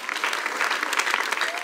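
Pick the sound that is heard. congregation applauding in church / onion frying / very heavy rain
congregation applauding in church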